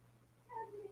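A cat indoors lets out a single short, quiet meow over a low steady room hum.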